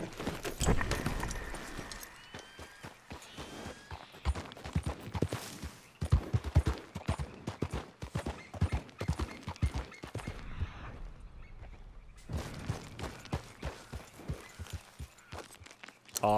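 Horse hooves in the Red Dead Redemption 2 video game, a fast clip-clop gallop rhythm running steadily with brief lulls and a whinny, loud and close, no talking.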